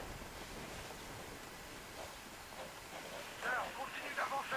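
River water in the video game Call of Duty: Ghosts rushes with a steady, faint wash of noise, swelling slightly toward the end and accompanied by a few soft chirping tones.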